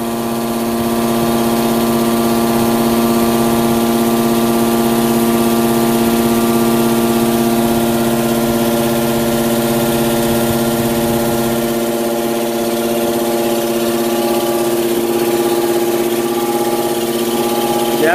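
A Komatsu PC30MR-1 mini excavator with a newly replaced hydraulic pump gear set runs steadily at a constant idle, a loud, even engine drone with strong tonal hum and no talking.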